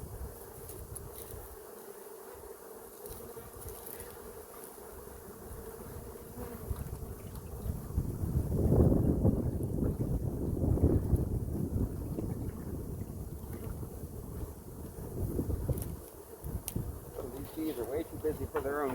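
Honey bees buzzing around an opened hive, a steady droning hum that swells louder midway, close to the microphone with wind rumble.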